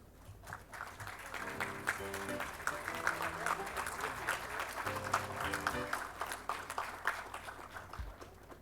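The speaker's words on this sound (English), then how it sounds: "Kindly give them a round of applause, please." Seminar audience applause at a Japan country seminar in Chennai, fairly quiet and distant clapping that builds and swells beneath a sustained musical tone, with a voice faintly present.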